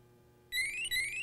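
A Sperian ToxiPro carbon monoxide monitor starts a loud, shrill electronic alarm after a moment of quiet, two rising warbling beeps close to the device with a short gap between them.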